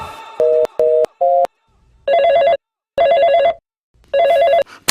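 A telephone rings in a Bhojpuri home drama, first three short beeps and then three loud, warbling ring bursts with pauses between them, alone and close.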